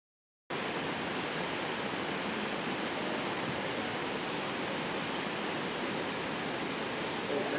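Steady, loud rush of a waterfall close by, seen from a small lodge at Chamje in Nepal's mountains, a dense unbroken roar of falling water with no voices over it.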